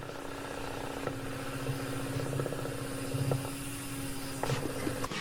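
A wood lathe spins a segmented bowl at 900 RPM with a steady, even mechanical hum and drone. Faint tool contact comes through in a few brief scrapes and ticks along the way.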